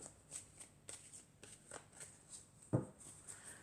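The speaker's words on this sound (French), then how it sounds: "Alors ensuite, je vais prendre encore 4 cartes." Tarot cards are shuffled and drawn close up in a quiet room: soft rhythmic riffles and flicks, then a sharper snap as a card is placed down, with no talking.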